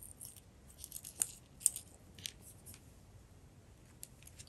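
Scissors snipping through a plastic bottle to cut it in half, a few faint, sparse clicks and crunches at close range over quiet room noise, with no talking.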